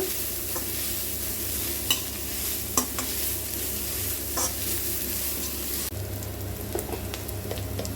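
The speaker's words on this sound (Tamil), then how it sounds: "இதையும் போட்டுமே எல்லாம் நல்லா கலந்து விட்டுக்கலாங்க" Grated carrot is stirred into vegetable fried rice in a hot pan, with a constant sizzle and frequent clinks and scrapes of the spoon. The frying sound shifts slightly partway through.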